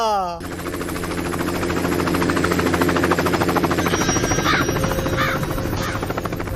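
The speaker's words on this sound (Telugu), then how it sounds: "మన ఊర్లో హెలికాప్టర్ ఎట్రా" A loud helicopter drones steadily with a rapid rotor chop throughout, a voice briefly audible at the start.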